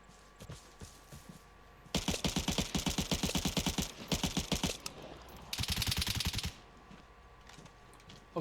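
Rapid bursts of close gunfire in the video game Vigor: two long automatic strings of evenly spaced shots separated by a short pause, with a few scattered shots before them and no talking.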